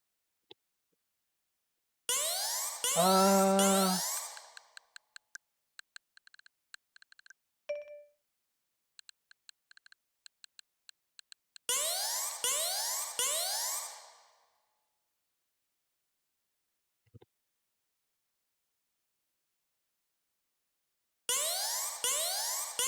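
Bursts of bright, sweeping electronic stream alert sounds repeat several times, separated by short clicks, blips and near silence, fairly faint overall.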